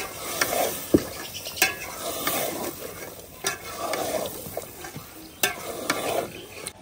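Meat with yogurt stirred and fried in a pot over a stove, a steady sizzle with repeated scraping stirs and occasional clanks of the spoon against the pot, close and alone.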